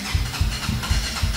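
Honda CB 300F Twister motorcycle engine idling just after starting, fitted with a programmable Athlon ECU and GRS exhaust, giving a low, steady, slightly uneven pulsing thump close by with no talk.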